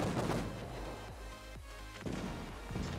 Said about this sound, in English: My secondaries are firing at the player now.